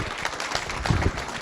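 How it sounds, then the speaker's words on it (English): Audience applause for a guest speaker at an SEO and marketing talk, a dense steady patter of many hands clapping for about a second and a half, with no speech over it. "Let's give Frank Motola a round of applause."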